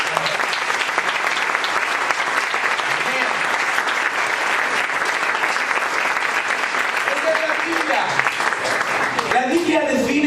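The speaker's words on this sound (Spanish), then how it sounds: "Denle ese aplauso fuerte" Loud, dense applause from a church conference audience fills the whole stretch without a break, with a few voices calling out near the end.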